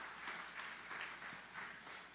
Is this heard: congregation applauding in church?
yes